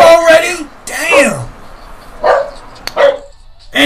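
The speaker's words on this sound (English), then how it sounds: "Will you shut that dog up already?" A dog barks in several short bursts near the microphone, alternating with a voice talking nearby.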